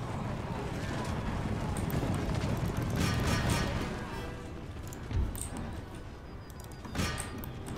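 Cavalry horses gallop in the video game Empire Total War, a dense, continuous rumble of many hooves mixed with battle noise. It stays loud and steady throughout with a couple of sharper impacts.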